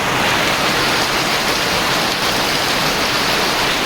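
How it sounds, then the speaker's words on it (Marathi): Heavy monsoon rain pours down in a dense, steady roar over farmland in Konkan, loud and close, with no pauses. "धो धो पाऊस एकदम मुसळधार पाऊस एकदम जोरदार पाऊस आलाय"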